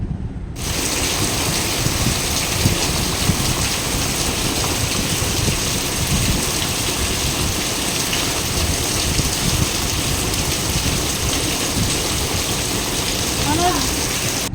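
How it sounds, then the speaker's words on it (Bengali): Steady, dense rain pours down throughout, a constant broadband hiss of drops striking surfaces with no pauses. "আর দেখুন বৃষ্টি শুরু হয়ে গেল"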